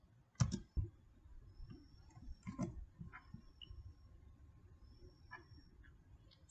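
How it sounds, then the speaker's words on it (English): A few sharp computer keyboard keystrokes tap out in quick bursts, close and fairly quiet over a low room hum, with longer gaps between the clicks. "We'll type delete."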